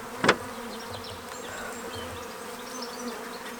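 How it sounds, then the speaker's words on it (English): Honeybees buzzing around a bait hive, a soft steady drone of many insects close by with one brief sharp knock near the start. "they're very, very lovely, gentle bees"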